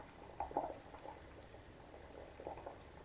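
Soft bubbling of water simmering in a pot for homemade blackberry vinegar, a few gentle pops and gurgles over a low steady background, no talking.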